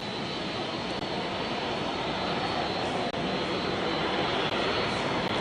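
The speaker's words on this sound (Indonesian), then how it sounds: "Ada kedatangan satu pesawat." An airplane arriving at Halim Perdana Kusuma airport roars with a loud, steady broadband jet engine rush that fills the whole stretch without letting up.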